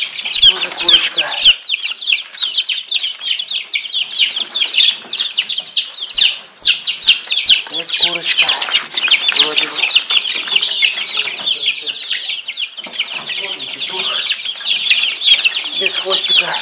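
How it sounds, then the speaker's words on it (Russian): Several hens in a poultry yard cluck and squawk continuously, close and loud, with brief bits of talk. "А это курочка."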